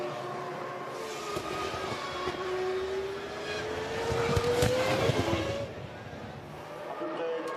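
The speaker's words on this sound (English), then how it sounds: "Häkkinen accelerates down the start-finish straight" A McLaren Formula 1 car at the 2000 European race accelerates down the start-finish straight, its engine note climbing steadily in pitch before dropping away under a commentator's voice and crowd noise.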